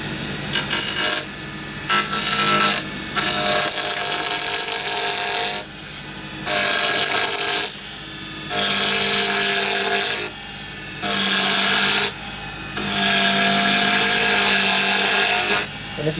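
A wood lathe rounds a wooden driver handle, with loud bursts of cutting and rubbing that start and stop repeatedly over a steady motor hum, and a voice speaking in between.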